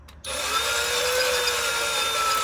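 A brushless cordless bandsaw spins up after its battery is attached, settling into a steady, loud motor whine that runs alone and unbroken.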